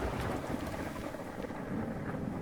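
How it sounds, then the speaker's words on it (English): Heavy rain in the train simulation game Derail Valley, a dense continuous hiss and patter with low rumbling underneath, steady and without talk. "looks like even heavier rain here"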